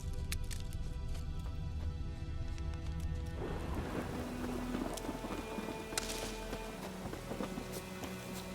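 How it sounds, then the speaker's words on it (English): Thunder and rain from a storm in the video game The Witcher: a steady wash of rain with low rumbling thunder that swells midway, plus scattered clattering knocks over the continuous downpour. "A storm, damn it."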